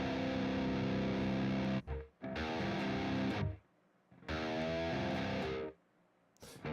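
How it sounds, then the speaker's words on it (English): An electric guitar played through a delay effect rings out in sustained, distorted chords, in three loud bursts broken by short silences, with tails that die away and no talk. "That was just the delay?"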